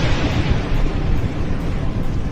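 Missile explosions in Israel, struck in Tel Aviv, Haifa, Nevatim and Beersheba, make a loud, continuous rumbling roar of blasts with no break across the whole stretch.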